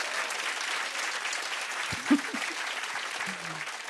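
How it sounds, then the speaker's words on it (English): Audience applause at a stand-up comedy show, a steady broadband patter of many hands clapping throughout, fairly loud, with a few stray voices and a brief thump partway through. "You're clapping for poor healthcare."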